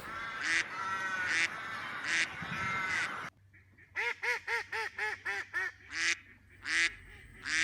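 Ducks quack in a lively series of close, nasal calls. A few slower honks come first, then a rapid run of clipped quacks, with scattered calls continuing to the end.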